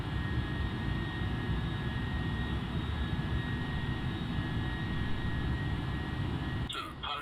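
Steady airliner jet engine drone during a landing approach, a continuous cabin-level rumble with faint high whine, holding even throughout before a brief rustle at the end.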